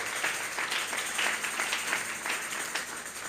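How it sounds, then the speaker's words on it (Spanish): A church congregation claps together in a steady, continuous round of applause that stays fairly loud and even from start to finish, with no one speaking over it. "Vamos a darle una ofrenda de palmas a Dios en esta hora."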